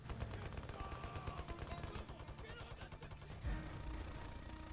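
Rapid automatic gunfire from a first-person shooter video game, dense bursts of shots rattling continuously with a brief heavier blast partway through, played at a moderate distance.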